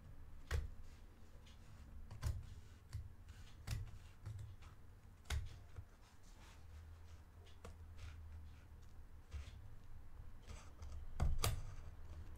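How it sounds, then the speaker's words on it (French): Sewing scissors cutting through material, producing a quiet series of irregular, crisp snips and clicks over a soft background hiss, with a few sharper cuts standing out. "Même avec des ciseaux qui coupent, je trouve le moyen de galérer."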